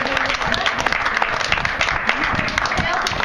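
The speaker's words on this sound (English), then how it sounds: "Let's give a round of applause for our" Meeting attendees give a round of steady, close applause that fills the whole moment, with voices faintly mixed into the clapping.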